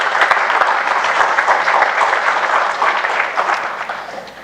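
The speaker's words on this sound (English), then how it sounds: "give him a big round of applause" Audience applause at an awards and valedictory ceremony, a loud, dense roar of many hands clapping steadily, easing slightly toward the end, with no talk over it.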